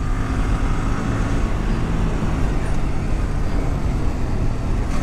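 A vehicle drives the winding Gap Road mountain route of Valparai in monsoon season, giving a steady, loud, unbroken wash of engine and road rumble throughout with no clear breaks.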